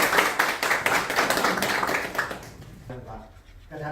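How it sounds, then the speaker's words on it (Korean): An audience at a workplace safety lecture claps to welcome the speaker, a fairly loud burst of applause that fades out after a couple of seconds, followed by quieter room sound and a brief voice. "힘찬 박수로 모시겠습니다."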